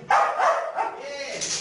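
Dog barking and snarling aggressively during protection training, heard as close, loud, rough bursts running together over about a second and a half.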